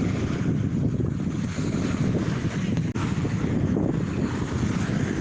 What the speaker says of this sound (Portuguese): Esse som é o som do vento sudoeste.